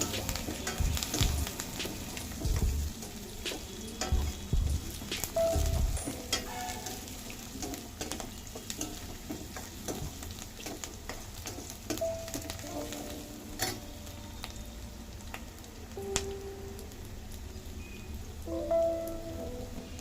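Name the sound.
frying and stirring for aloo palak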